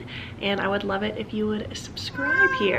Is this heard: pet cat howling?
yes